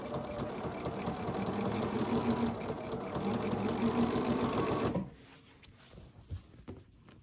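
Sewing machine stitching binding onto a quilt, a steady close whirring run for about five seconds that stops abruptly, leaving faint handling noises.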